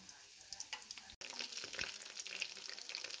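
Leftover tasty bread pieces fry in a pan with soft, constant sizzling and crackling, close by and fairly quiet, with a brief gap partway through.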